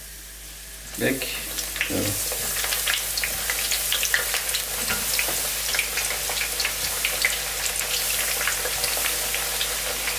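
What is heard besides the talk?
aubergine frying in a pan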